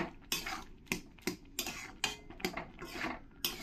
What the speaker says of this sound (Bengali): এবার আমি ভালো করে একটু খুন্তি দিয়ে নাড়িয়ে দেব।